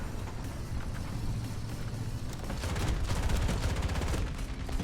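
Enemy gunfire in the tank game War Thunder, a steady clatter of rapid shots over a low engine rumble that grows denser and louder toward the end, with no voices.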